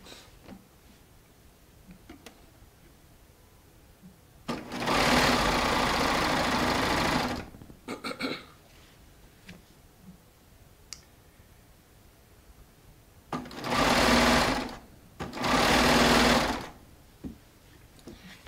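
Baby Lock Triumph serger running in bursts while overlocking cuddle fabric with a 4-thread stitch, with loud sustained motor runs of a few seconds each, separated by quiet pauses with faint clicks.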